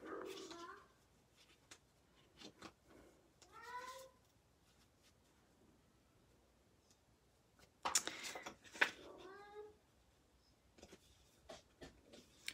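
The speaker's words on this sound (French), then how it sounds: "Les petits bébés chats, ils ont commencé à se promener, sortir du bac." Small kittens meow in short, rising cries indoors, a few separate bursts and clustered calls spaced across quiet stretches, with occasional soft rustles and taps between them.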